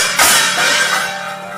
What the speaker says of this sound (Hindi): थोड़ी देर बाद वो थाली दीवार पर पटकने की आवाज आई